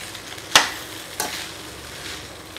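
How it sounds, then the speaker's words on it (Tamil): A spoon is stirred through amla rice in a pan, giving two short scraping knocks over a soft hiss, close by, with no talking. "இப்போ இது கிளறி விட்டுக்கலாம்."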